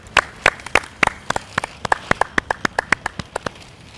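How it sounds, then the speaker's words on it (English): An audience claps for a student in a classroom health lesson, a sparse run of individual claps, irregular at first and then quicker, fairly close and fading out near the end. "Give her a big clap."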